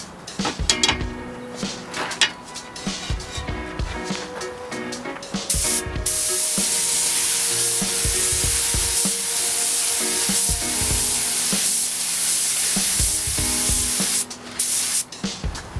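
A spray gun laying a second coat of paint, opening with short clicks and handling noises, then a long continuous hissing spray burst held for several seconds before stopping, close and loud.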